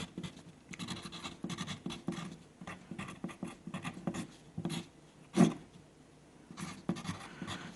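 A pen scratches across paper up close while a formula is written out in quick irregular strokes and pauses, with one louder tap partway through.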